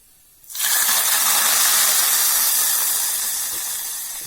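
Spice seeds hit hot mustard oil and start a sudden loud sizzle. It kicks in about half a second after quiet, holds a steady bright hiss, then eases slightly.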